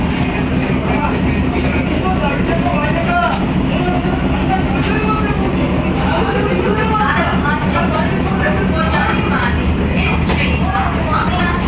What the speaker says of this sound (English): finally Bidhannagar road के बाद हमारा ट्रेन एकदम फुल रफ्तार पे एकदम पिकअप ले चुका है